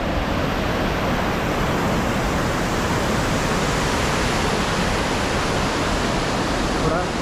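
A small waterfall near a Munnar resort gives a loud, steady broadband rush of falling water that fills the whole scene without pause.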